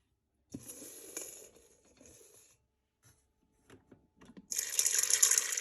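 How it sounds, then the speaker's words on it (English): Water runs from a tap into a bowl of soybeans, a bright, splashing gush that starts late and continues steadily, after some earlier clinks and handling noises. "Then we're gonna go ahead and add some water."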